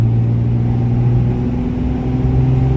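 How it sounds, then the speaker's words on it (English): A pickup truck's engine, with a Banks intercooler newly installed, revs under throttle as a loud, steady, close rumble that holds through the whole stretch with no voices. "let's give it some throttle."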